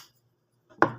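A single sharp knife chop cuts through a bamboo shoot on a board, close and crisp after a near-silent moment.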